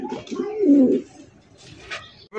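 A light-coloured racer pigeon gives a close, loud, throaty coo lasting under a second, followed by quieter rustling.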